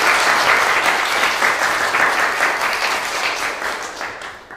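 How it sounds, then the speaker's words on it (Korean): Loud, dense applause from an audience welcoming visiting comic book authors at a comics festival meet-and-greet, a full wash of clapping that stays strong and tapers slightly near the end. "여러분 박수 한번 부탁드리겠습니다"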